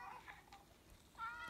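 A cat in the Minecraft video game meows near lava, with two short game meows, one at the start and a clearer one near the end, heard alone at moderate level.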